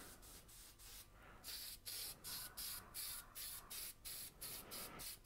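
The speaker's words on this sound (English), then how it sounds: "I'm going to just give this guy a light spray again" Repeated quick spritzes from a spray bottle onto an oil painting, about a dozen short hissing pumps in a steady rhythm, close and fairly quiet.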